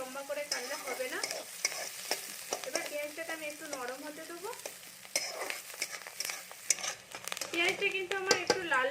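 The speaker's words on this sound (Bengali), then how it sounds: "এই পেঁয়াজটাকে আমি একটু ভাজতে দেবো এটাকে একটু আমি হালকা করে ভেজে দিচ্ছি" Finely chopped onion frying lightly in a pan with oil, a continuous sizzle under repeated scraping and clinking of a spatula against the pan, with faint voice-like tones mixed in.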